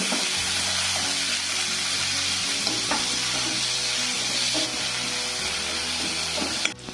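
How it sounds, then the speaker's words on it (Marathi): Chopped tomato, carrot and coriander sautéing in a hot kadhai for rava upma, a steady close sizzle with occasional scraping stirs of a spoon against the pan. "हे सर्व आपण छान आता परतून घेऊ।"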